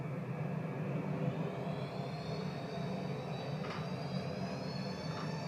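Airliner jet engines spool up steadily for takeoff in a flight simulator, a continuous loud roar with rising whine tones throughout, no talk.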